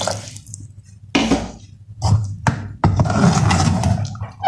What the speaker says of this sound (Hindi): इसमें थोड़ा सा पानी मैं और डालूंगी।